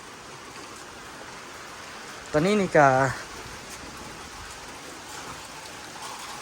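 A heavy rainstorm pours down in a steady, even hiss that fills the background, while someone briefly speaks over it partway through.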